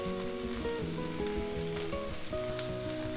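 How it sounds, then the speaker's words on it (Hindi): Cabbage, carrots and onions sizzle loudly as they are stir-fried in a wok for restaurant-style veg chow mein, a steady close frying hiss with occasional clinks from the spatula, no speech. "तो अब ऐड कर देते हैं सब कुछ, जैसे पत्ता गोभी, गाजर और थोड़े बहुत प्याज रह गए थे वो भी ऐड कर लेते हैं"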